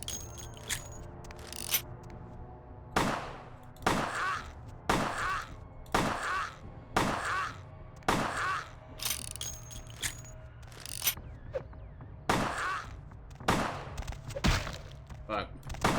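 Gunfire from a handgun in Vampire the Masquerade Bloodlines, a string of about a dozen sharp, fairly loud shots spaced roughly half a second to a second apart over steady game background sound.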